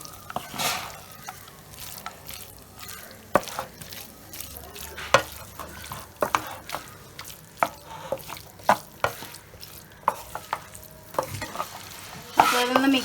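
Boiled beef being stirred and mixed in a frying pan for a Kerala-style beef roast, with repeated close spoon scrapes and knocks over a low continuous sizzle, no talking.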